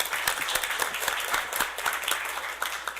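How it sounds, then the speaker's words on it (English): Audience applause at a council meeting: a roomful of people clapping steadily, sharp individual claps audible within the wash, moderate and continuous without voices. "let's give them all a round of applause"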